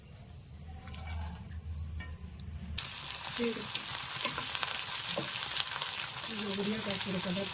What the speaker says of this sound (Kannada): ಈ ಪದಾರ್ಥಗಳನ್ನೆಲ್ಲ ಈಗ ನಾನು ಹುರ್ಕೊಳ್ತೀನಿ